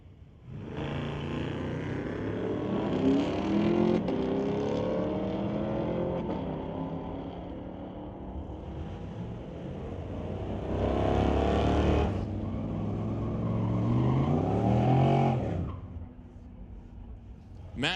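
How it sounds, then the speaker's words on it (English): Drag race launch of a 1970 Plymouth against a 2018 Camaro at a street legal night: engines roar and climb through revs in long surging passes, loud and rising, with a brief lull between. "Matt DeBoyer going to go to the 1970 Plymouth out of Quandra Island alongside Braden with the 2018 Camaro."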